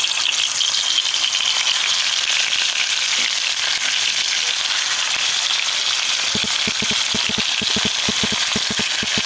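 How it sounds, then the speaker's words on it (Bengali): Small fish frying in hot oil in a wok, a loud continuous sizzle and crackle throughout, with a quick run of sharp popping spatters near the end. "মাছগুলো আমি ভেজে নিই এখানে কড়াই বসিয়ে দিয়েছি কড়াই তেল অল্প গরম হয়ে গেছে"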